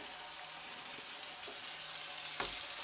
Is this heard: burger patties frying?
yes